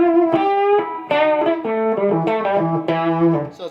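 Electric guitar through a boost overdrive pedal, a mildly driven, boosted tone playing a short run of single notes, sustained and harmonically rich, alone and fairly loud.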